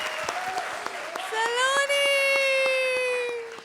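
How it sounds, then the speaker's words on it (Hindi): A studio audience on a televised comedy show applauds with brisk, dense clapping that swells about halfway through, mixed with a sustained voice or tone and some crowd noise. "सबों के लिए एक दफ़ा बहुत सारी तालियां."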